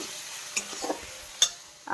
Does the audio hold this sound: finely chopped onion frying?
yes